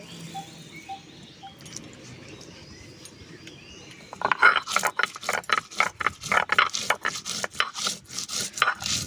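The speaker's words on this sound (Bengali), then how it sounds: "গোটা জিরে গোটা ধনে আমি একসঙ্গে করে বেটে নেব" Whole cumin and coriander seeds are ground on a stone slab, the stone rubbing and clacking in a quick, steady rhythm up close after a quieter start.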